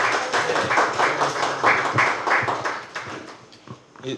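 Audience clapping for a company CEO at a Korean franchise seminar on clean kitchens, a dense burst of hand claps that starts strong and thins out over a few seconds.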